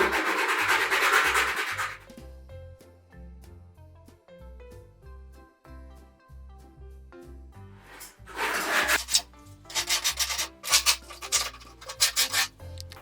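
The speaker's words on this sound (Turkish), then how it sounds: "Şu an orayı zımparalıyor Mahmut arkadaşlar." Bursts of rough rubbing from sanding the clear plastic flap of a cat door, loud at the start and again later in quick repeated strokes, with music playing underneath and between them.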